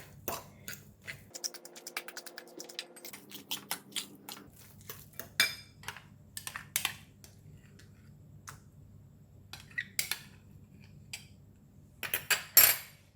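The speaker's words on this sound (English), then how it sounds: "Just going to use the spoon to mix it." A spoon mixes mashed boiled egg with pepper and mayonnaise in a bowl, giving sparse clinks and scrapes against the dish, with a short low hum at one point and quiet gaps between strokes.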